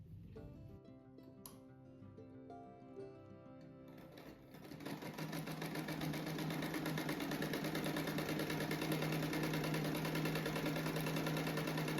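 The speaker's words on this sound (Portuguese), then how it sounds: "Agora eu faço uma costura aqui no meio." A sewing machine stitches a seam through a handmade rug, its fast steady whir starting about four seconds in and running loud and continuous to the end, after a few quieter handling sounds.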